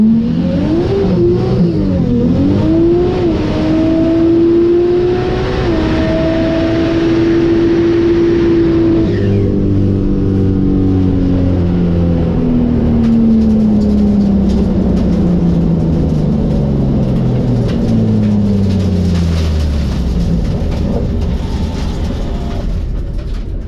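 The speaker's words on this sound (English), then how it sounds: "Just blew the motor for sure." A car engine blows at about 140 mph: a loud, sustained engine roar with rising and falling pitch, then a shift into rough, multi-toned descending whines as the motor fails and the car winds down, with no talking.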